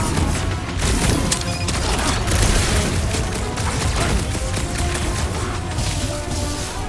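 Dense, continuous gunfight in Guardians of the Galaxy near a reactor core, with rapid overlapping shots, blasts and crashing impacts forming a loud, unbroken barrage.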